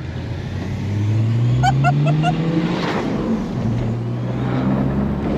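A BMW E36 325 TDS diesel car with a modified turbo running 2.0 bar accelerates, its engine note rising steadily and loud from close inside or beside the car, with a brief chirping sound partway through.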